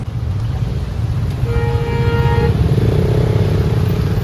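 Motorcycles and other traffic in a jam on a road near Rishikesh, a dense steady engine rumble close by with a horn sounding for about a second midway, and no talk.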